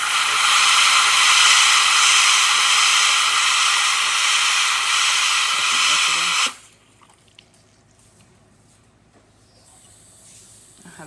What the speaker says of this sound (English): As you can see, nice steady stream coming out of the machine.